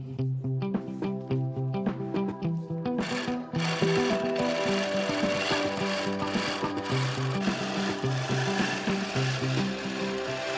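A long arm quilting machine stitches a baby quilt, its steady mechanical hum layered over tonal music, starting lighter and turning denser and louder after a few seconds, with no talking.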